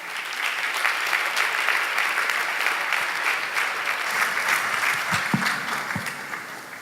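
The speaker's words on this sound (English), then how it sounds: "You can clap, go ahead." A room full of people at an event introducing two speakers from the Atlanta technology scene claps steadily, the applause close and even throughout, easing slightly near the end.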